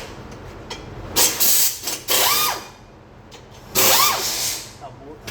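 A ratchet fitted with a swivel socket turns during a car brake job in a garage, giving short bursts of rapid, close metallic clicking separated by pauses, while a person talks over the work.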